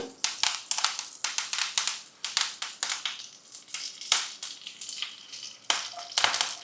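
Mustard seeds and curry leaves fry in hot oil for a Kerala prawn curry, giving a close, loud run of sharp crackling pops and spitting bursts that flare and fade in uneven clusters, with no voices.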